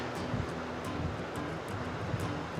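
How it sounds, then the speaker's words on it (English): Waterfall along the High Sierra Trail, a steady broadband rush of falling water heard alone, even and constant with no speech. "We got beautiful waterfall, which is always great. Sound of water."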